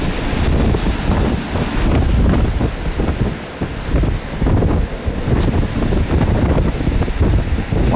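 Strong storm wind buffets the microphone while waves surge and slap against a rocking boat heading into oncoming swells, a loud, continuous roar with rhythmic surges.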